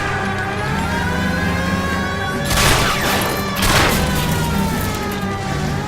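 Gunfire in L.A. Noire aimed at a fleeing car: two loud, rough bursts of shots over a steady roar of engine and road noise, with no talking.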